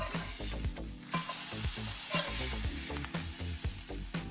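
A Walmart frozen burger patty frying in a pan, steady close sizzling with intermittent crackles and a few clattering pops, no talking.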